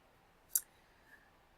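A single sharp computer mouse click on a map point, close and brief, followed by a fainter second tick in near silence.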